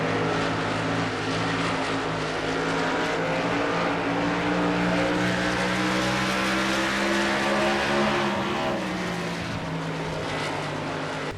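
Racing truck engines in NASCAR Racing 2003 drone steadily and loudly throughout, a dense layered roar with shifting engine tones as several trucks run close together.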